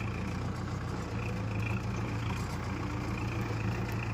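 A lorry arriving to haul gravel chips, its engine rumbling steadily at low revs throughout, fairly close with no breaks.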